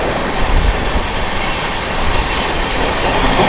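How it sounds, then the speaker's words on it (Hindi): The Sampoorna Kranti Express overtakes the Magadh Express at 130 km/h, making a loud, close, continuous roar of wheels and carriages with low rhythmic thumps underneath. "संपूर्ण क्रांति फ्लैट 130 पे ओवरटेक कर रही है मगध एक्सप्रेस को"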